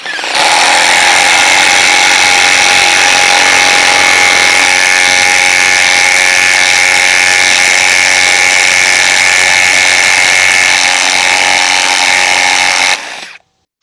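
RIDGID Stealth Force impact driver sinking big lag screws, a loud continuous whirring hammer drone that runs steadily for about twelve seconds, then stops abruptly.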